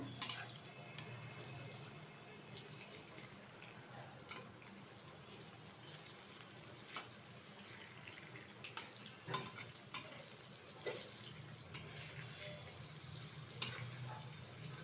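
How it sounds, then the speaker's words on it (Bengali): Jackfruit fritters fry in oil with a faint, continuous sizzle, accompanied by scattered light clicks and scrapes of turning them in the pan. "একটু লাল লাল করে কিন্তু ভেজে নেব।"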